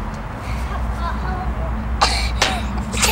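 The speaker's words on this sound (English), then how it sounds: "Just when he sneezed, too." A boy sneezes outdoors in a backyard, short sharp bursts of breath standing out over a steady background hum, with a couple of quick explosive bursts near the end.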